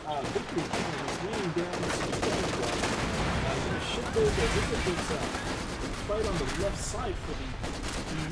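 Rapid gunfire from a Universal Carrier and a Scout Car in the Company of Heroes 2 strategy game, with dense overlapping bursts running steadily and loud through the whole stretch amid continuous battle noise.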